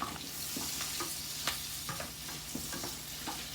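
Cabbage fries in a hot pan with a steady sizzle, while a utensil scrapes and stirs it in short irregular strokes, close up and without talk.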